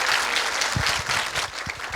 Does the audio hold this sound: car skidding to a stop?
no